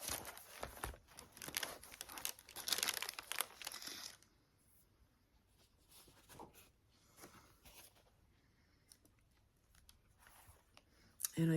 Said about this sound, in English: I have a piece of parchment paper here.